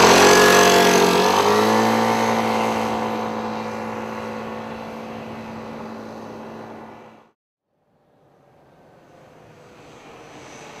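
A 2007 Aprilia Mojito 150cc scooter engine whines loudly up close, then fades steadily as it pulls away, dropping to silence before faint motor noise returns.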